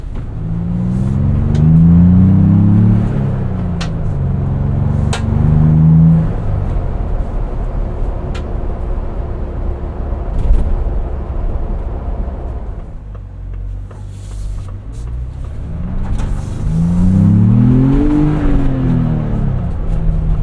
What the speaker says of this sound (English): I just really like driving this Bronco.